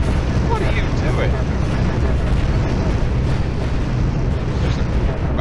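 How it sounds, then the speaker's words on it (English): A heavy spaceship collision in the space combat game Cosmoteer: a dense, continuous rumbling crash that stays loud from start to end, layered with blasting game noise. "Just an outright collision there."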